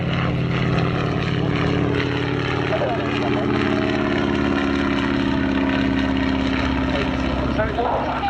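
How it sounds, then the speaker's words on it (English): Boeing Stearman biplane flying a display sequence at Cosford Airshow, its radial propeller engine droning steadily and loudly throughout with a constant engine tone under a faint layer of voice. "Sue Girdler completing her sequence with the Boeing Stearman K-deck"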